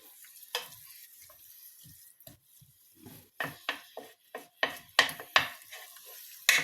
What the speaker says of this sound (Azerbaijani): sarımsaqlarımızın hamısını belə doğradıq və belə deyim, qatırıq, yəni qarışdırırıq